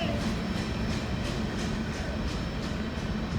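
A street-running train passes through town in La Grange, Kentucky on a dreary day, a steady broad rumble of rail cars holding close and loud throughout with faint periodic clatter of wheels.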